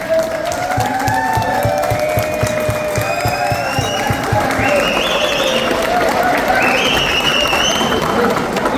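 A large audience at a business launch event in Hyderabad claps and cheers loudly to welcome a speaker onto the stage, with dense sustained applause and a few whoops over the full stretch.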